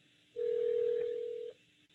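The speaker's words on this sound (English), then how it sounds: "I should be able to dial that number directly there to make a call." A single steady telephone tone sounds for just over a second, clean and fairly loud, starting and stopping abruptly against a quiet room background.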